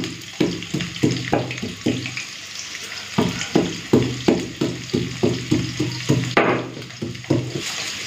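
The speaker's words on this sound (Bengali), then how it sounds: "ওইদিকে আলু ভাজাটা হোক" Potatoes fry in hot oil with a steady sizzle under a regular series of close scraping strokes, roughly two each second, as the pieces are stirred and turned in the pan.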